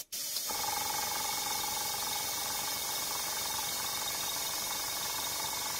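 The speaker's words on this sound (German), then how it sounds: "Dieser Kompressor, der hat keinen Drucklufttank, wo er seine komprimierte Luft erstmal zwischenparkt" A tankless airbrush compressor pump switches on with a brief thump and then runs without pause, a constant close hissing drone with a faint mechanical rattle underneath.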